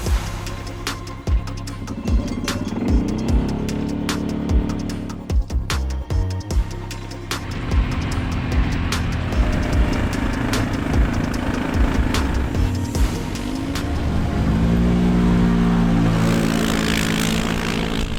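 Steady, loud engine drone from a Loncin X Wolf 550 L two-seat quad during a ride, rising and falling with throttle changes and broken by a few sharp knocks and clicks.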